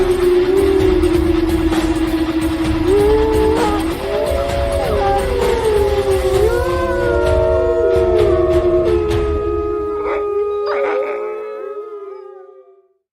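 A long wavering howl, sung at a steady pitch before sliding and warbling through rising and falling bends, plays as an intro sound over a low background rumble and ends abruptly; it may be a human voice imitating a canine howl.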